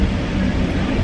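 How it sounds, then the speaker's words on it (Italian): A train rolls along steadily just after departing, a continuous loud rumbling hum with rattling throughout, no voices. "siamo saliti e il treno è partito"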